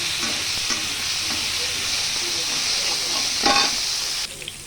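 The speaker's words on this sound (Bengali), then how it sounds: "আর এদিকে পেঁয়াজ রসুন ভেজে নিচ্ছি।" Onion and garlic fry in a pan with a bright, continuous sizzle, marked by a few soft stirring scrapes and a louder scrape near the end before the hiss suddenly drops away.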